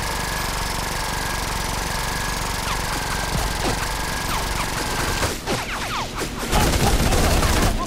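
Rapid bursts of gunfire from a weapon in the cartoon shooter game Battlefield Heroes, dense and continuous over a steady engine-like drone, ending in heavier clattering shots.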